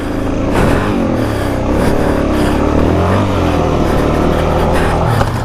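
Suzuki DRZ400 dirt bike engine revving hard on a snowy trail, a loud continuous high-throttle roar with wavering pitch and a few surges, up close and alone.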